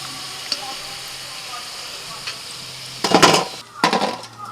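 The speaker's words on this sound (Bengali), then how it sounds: "এগুলোও ভাজা হয়ে গেছে, এবার তুলে নিচ্ছি" Soybean koftas fry in hot oil with a steady sizzle, then stirring and scraping of a utensil in the pan bring louder bursts near the end.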